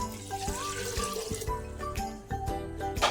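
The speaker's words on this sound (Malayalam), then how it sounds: "ഒരു ലിറ്റർ വെള്ളം കൂടിയാണ് ഞാൻ ചേർക്കുന്നത്" Water poured into a pot for mutton soup, a steady splashing stream with gurgling and small tonal rings as the pot fills, close and continuous without talk.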